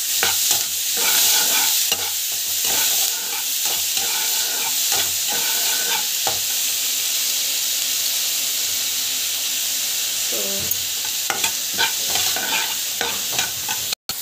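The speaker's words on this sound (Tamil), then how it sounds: "வெங்காயம் பச்சை மிளகாய் போட்டுறோம். இது வந்து நல்லா வதங்கட்டும்." Onion and green chilli sauté with salt in a hot pan, a continuous loud sizzle and hiss with repeated scraping stir strokes, no talking over it.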